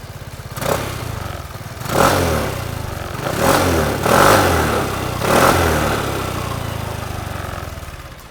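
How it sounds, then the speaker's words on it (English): An Aprilia SR175 scooter engine idles with a steady low rumble, blipped by several short revs that swell and fade at roughly regular intervals, close and loud. "If you're curious and you want to know what the exhaust note of the SR175 sounds like"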